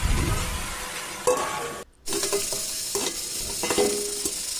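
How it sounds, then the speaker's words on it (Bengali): Drumstick flowers being stirred as they fry in a pan for sajne phool chorchori, a steady close sizzle with scraping strokes, broken by a brief silent gap partway through. "এবার সজনা ফুলটাকে দেওয়ার পরে আবার একটু নাড়াচাড়া হয়ে গেছে"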